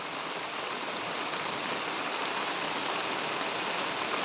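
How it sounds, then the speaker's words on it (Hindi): Steady rain pours down outdoors in India under a darkened sky, a dense, even hiss that holds without a break and has no voices over it. "और यहाँ पे होने लगी है बारिश"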